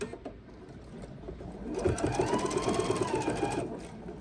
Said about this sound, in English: And now I'm going to sew